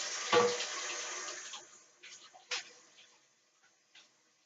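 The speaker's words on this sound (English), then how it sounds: "I'm using scalding hot water here to melt the butter out of this" Scalding hot water pours hard from a kitchen tap into a sink for about a second, then tapers off. A few soft clinks and splashes of dishes being rinsed follow as the sound fades to near silence.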